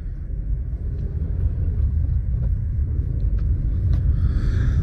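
A 2024 Suzuki Grand Vitara base model pulls away in first gear, its engine a steady low rumble heard from inside the cabin, with faint clicks over the drone.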